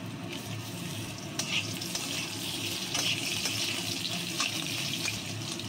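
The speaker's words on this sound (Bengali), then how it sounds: "আলুগুলো একটু লাল লাল করে ভেজে নেব" Steady crackling sizzle of potatoes frying in a pan, with occasional scraping stir sounds, close and continuous with no talking.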